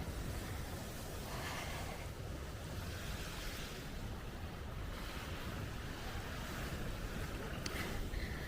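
Big ocean waves roll onto a Maldives local island beach at Dhigurah after a storm, a steady, dense wash of surf with wind rushing across the microphone.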